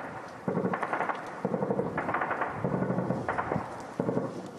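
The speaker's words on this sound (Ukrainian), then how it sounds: "Навіть посеред білого дня час від часу лунають кулеметні черги та вибухи." Repeated bursts of machine-gun fire and booming explosions echo through a front-line town in the Luhansk region in daylight, coming in short rattling volleys separated by brief gaps, moderately loud and somewhat distant.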